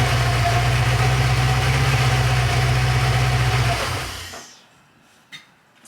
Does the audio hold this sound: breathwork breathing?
no